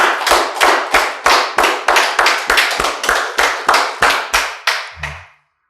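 A church congregation at a Sunday worship service claps in about a dozen loud, rhythmic, unison beats, a steady pulse that stops cleanly at the end, with no talking over it.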